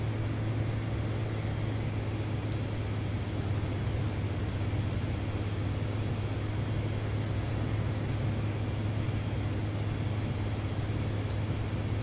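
A Piper Comanche's engine drones in flight inside a flight simulator game, a steady, unbroken hum with a strong low tone and broadband rush throughout, heard alone without talk.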